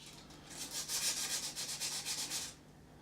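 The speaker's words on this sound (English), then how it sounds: "sanding dry, and it's a bit frustrating when the sandpaper gets gumped up with paint all the time" Quick rhythmic back-and-forth scratching of wet-and-dry abrasive paper sanding paint on a Myford M lathe, about a dozen strokes in a steady burst, close and fairly quiet.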